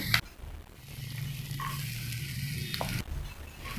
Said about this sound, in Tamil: இதை ஒரு ஆனியன் நல்லா வதங்கட்டும் அது வரைக்கும் சாட்டே பண்ணலாம்